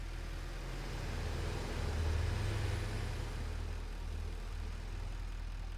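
A tractor engine in the game Satisfactory drones steadily with a low, continuous rumble, swelling slightly midway and then settling, with no voices over it.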